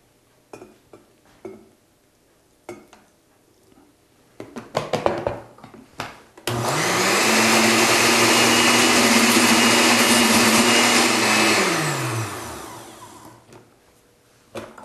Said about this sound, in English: don't drop the stick when the blender is running